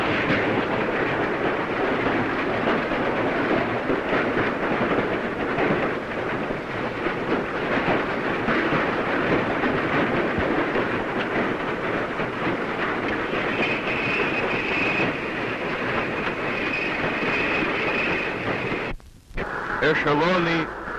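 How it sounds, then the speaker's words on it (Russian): Freight trains hauling coal and steel rumble along the rails in a dense, loud, continuous roar from an early Soviet sound film recording, with an abrupt break near the end and speech heard over it. "Эшелоны угля и стали."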